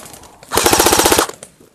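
Video-game machine gun fire: one rapid, loud burst of evenly spaced shots lasting under a second, with a faint trailing echo.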